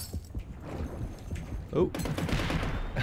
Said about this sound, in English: There's explosions and I'm deaf and I can't hear anything.